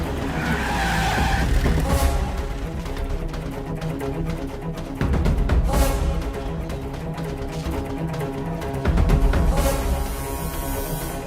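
A vehicle at a police stop skids with repeated bursts of tire squeal, several loud screeching surges over a running engine with no talking.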